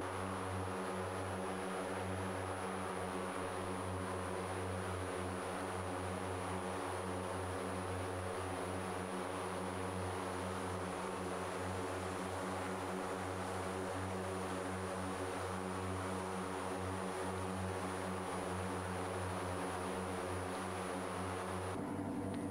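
Steady propeller drone of an OV-10 Bronco twin-engine aircraft in flight in a flight simulator, a constant loud hum with a high whine above, no voices.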